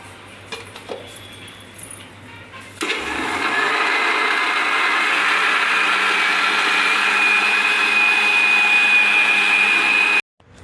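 A kitchen mixer grinder blending green chillies, mint and cold water into pani puri water, starting abruptly after a few quiet seconds of handling and running as a loud, steady whirring roar until it cuts off near the end.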